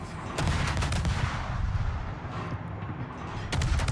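Naval guns firing at an enemy Conqueror battleship in the World of Warships video game, with heavy low booming salvos at the start and again near the end over a steady rumbling battle background.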